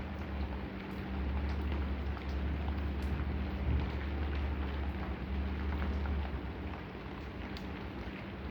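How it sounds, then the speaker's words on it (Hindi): Steady rain falls as a continuous dense hiss with a low rumbling undertone, constant and close for the whole stretch, with no voices. "बारिश कैसे हो रहा है।"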